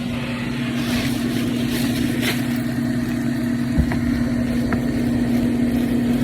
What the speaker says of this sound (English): Right now we got a fan running right there.